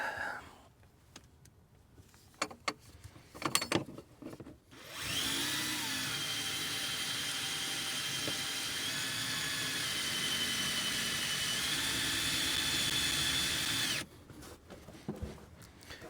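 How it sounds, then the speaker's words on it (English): Power drill boring a hole for a rivet nut to make a custom tie-down point holding a battery box, a steady loud whine sustained for about nine seconds after a few clicks and handling knocks, then stopping abruptly. "Then drill things out."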